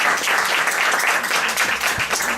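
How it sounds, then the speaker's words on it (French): A short burst of steady, fairly close audience applause at a community association event fills the whole moment, with a dense patter of hands and no voices over it. "Vous pouvez l'applaudir."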